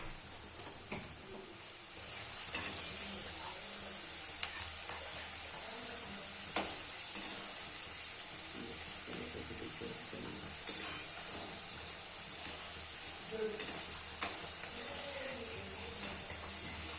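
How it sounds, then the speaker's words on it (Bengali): Homemade potato French fries fry slowly in oil over low heat, giving a soft, steady sizzle and hiss with scattered faint pops and ticks, quiet and continuous with no talking. "দেখুন কি সুন্দর করে ভাজা হচ্ছে।"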